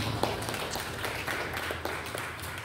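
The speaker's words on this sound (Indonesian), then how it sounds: "Tepuk tangan buat Anda semua" Audience applause at a teaching session, steady moderate clapping from a room full of people throughout the short stretch.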